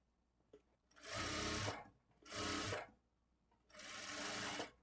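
A sewing machine stitches blouse lining in three close, loud bursts, each about half a second to a second long, separated by brief quiet pauses.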